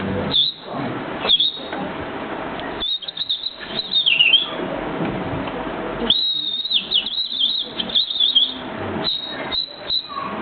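A man imitates a wren's song with his voice, bursts of high whistled chirps and trills over a busy, muffled background of audience or room noise, repeated in several short phrases.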